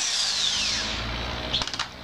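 A power drill bores a hole in a plastic container set on a solid surface, its motor whining and winding down in a sharp close burst, followed by a few short rattling clicks.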